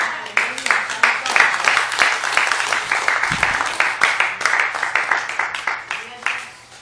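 A church congregation claps their hands in fast, steady unison rhythm, loud and sustained for several seconds, with voices mixed in before the clapping tapers off.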